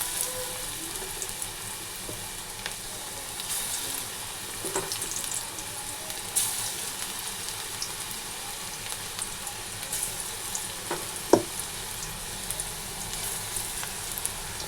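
Pointed gourd (potol) frying in darkened, reused oil, a continuous soft sizzle with scattered light clinks and stirring sounds, steady and close without speech.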